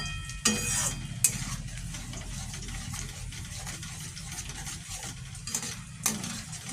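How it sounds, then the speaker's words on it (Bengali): Cashew paste gravy simmers and is stirred in a pan while cooking a home-style vegetarian potato, cauliflower and pea curry, giving a steady low bubbling sizzle with sharper scraping strokes of the spoon throughout. "কাজু পেস্ট দেওয়ার পর একটু ভালো করে ফুটিয়ে নিতে হবে।"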